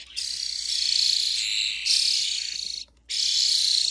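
Young starlings being fed worms give loud, shrill, sustained begging chirps at close range in long bursts, with one short pause before the calling resumes.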